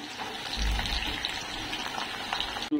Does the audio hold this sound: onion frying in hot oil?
yes